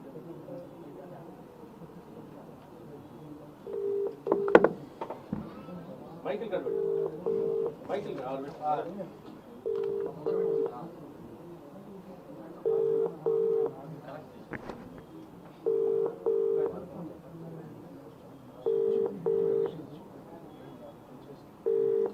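Repeated pairs of electronic ringback tones pulse at regular intervals over a low line hum, with a person speaking intermittently between them.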